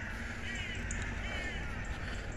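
Crows cawing in an open cemetery with Commonwealth war graves, a steady outdoor bird chorus filling the background at moderate distance with no one speaking.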